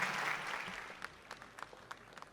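Audience at an Urdu mushaira in Dubai applauds, a burst of clapping that swells early and then thins into scattered individual claps fading out.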